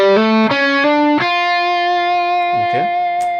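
Electric guitar with mild distortion plays a Mixolydian flat 6 lick over a dominant chord: a few quick picked notes sliding up, then one long ringing sustained note, with faint pick noises near the end.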